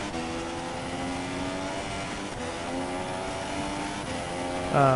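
A Formula race car engine in a racing game drones at high revs with steady harmonic tones, climbing through gears and easing off near the end, loud and continuous.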